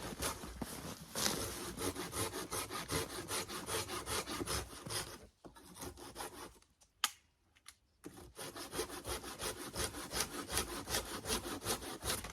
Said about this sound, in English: The one I'm using is a silky big boy saw